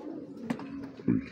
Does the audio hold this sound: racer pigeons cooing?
yes